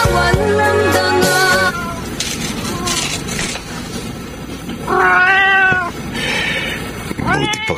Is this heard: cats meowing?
yes